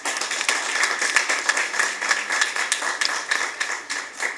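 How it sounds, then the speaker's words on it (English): Steady applause for a law students' moot court debate, many hands clapping at once in a dense, continuous patter that holds at an even level throughout. "Let's give them a loud hand clap."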